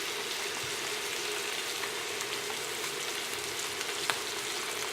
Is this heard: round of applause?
no